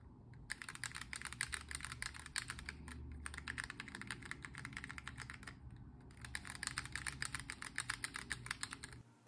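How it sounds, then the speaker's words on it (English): Rapid typing on a custom keypad fitted with lubricated mechanical key switches, giving a dense stream of soft clicks in two bursts with a short pause between them, quiet and close with no voices. "Hopefully you can tell from this audio how much softer and, as they say, creamier the switches on the left sound compared to the ones on the right."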